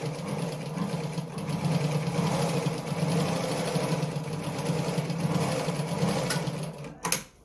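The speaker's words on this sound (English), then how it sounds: "So when I sew through now," A Naumann model 70 sewing machine runs a straight stitch at the longest stitch length with the needle centred, a steady close mechanical whir holding for about seven seconds before it stops with a short clunk.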